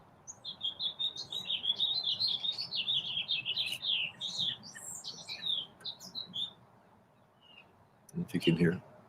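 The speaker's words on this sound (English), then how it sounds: "Man, birds are singing." Backyard birds sing a quick run of bright, twittering chirps for several seconds, then go quiet before a short, louder, lower burst near the end.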